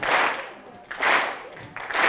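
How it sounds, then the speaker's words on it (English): Audience at a World Scholar's Cup 2017 opening ceremony clapping along in unison, three bursts of loud, roomy, rhythmic applause rising and falling in a steady pulse. "I want everyone to clap with me"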